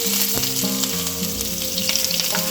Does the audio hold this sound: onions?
yes